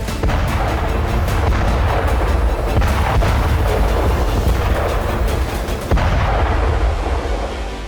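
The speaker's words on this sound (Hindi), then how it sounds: "रूस की सेना भारी गोलाबारी शुरू कर देती है" Heavy artillery shelling with continuous deep rumbling and repeated booms, loud and dense throughout, no voices.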